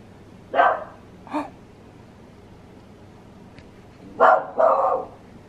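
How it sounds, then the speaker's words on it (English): A puppy barks indoors in short, close bursts: two quick yaps, a pause, then two louder barks in a row, with no talk over them. "The puppy's back making noises."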